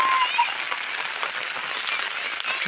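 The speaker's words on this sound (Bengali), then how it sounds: "যাকে বলে একদম প্রচণ্ড বৃষ্টি" Heavy rain pouring onto a street, a dense, even hiss of drops spattering the wet road, steady and fairly loud with a few sharper splashes, no talking over it.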